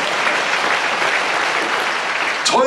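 Audience applause at a theological seminary lecture, a steady dense round of clapping filling the whole stretch at an even level, with a brief voice near the end.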